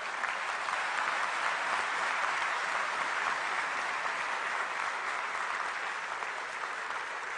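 Loud, dense audience applause at a speech by PM Modi, sustained evenly from start to finish with no pause and no talk over it.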